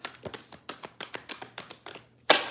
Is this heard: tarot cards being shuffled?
yes